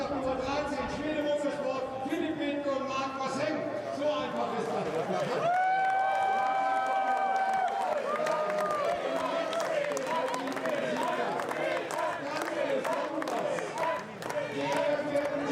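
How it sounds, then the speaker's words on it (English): A boisterous crowd cheering and clapping beneath the podium at a GT4 European Series race at the Nurburgring, a dense steady roar with a loudspeaker voice talking over it. "Good to hear a boisterous crowd beneath the podium"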